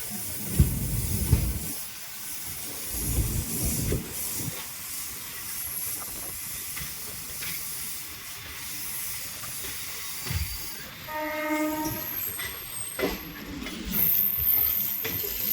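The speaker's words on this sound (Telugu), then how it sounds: "ఎటు చూసినా కూడా లోకల్ ట్రైన్స్ అయితే బీభత్సంగా తిరుగుతున్నాయి చెన్నైలో" Local trains running in Chennai give a broad rushing hiss and rumble. A short tonal horn-like blast sounds near the end, with no talking.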